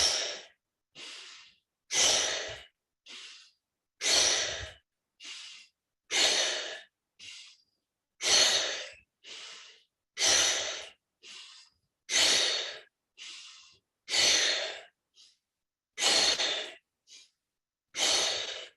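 A deep breathing exercise: loud, close, rhythmic in-and-out breaths, about a dozen strong pulses separated by short silences, with no talking.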